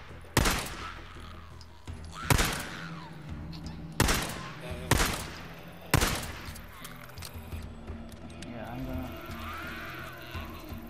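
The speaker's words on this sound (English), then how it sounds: "Shoot at anything. Just shoot." Gunfire in the video game Days Gone rings out as four or five sharp, loud shots spaced a second or two apart, each trailing off into echoing decay, with a voice talking faintly underneath.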